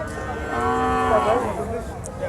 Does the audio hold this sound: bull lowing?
yes